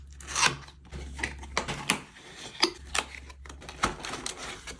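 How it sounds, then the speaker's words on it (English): Crinkling and tearing of paper packaging with sharp rustles and scrapes, close up, in irregular bursts with no talking. "5 seconds of ASMR unboxing coming up"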